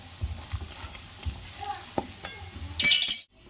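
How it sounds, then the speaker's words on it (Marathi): Red chilli powder, turmeric and onion-garlic masala sauté with tomato in a pan for a dhaba-style whole masoor dal, with a low sizzle, several scraping stirs and a brief louder clink near the end, no talking. "आणि मसाले पण मस्त आपण परतून घेऊया."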